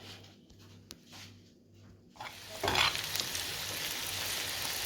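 Food starts sizzling in a pan midway, a loud hissing burst that settles into a steady crackling fry after some quiet stirring sounds.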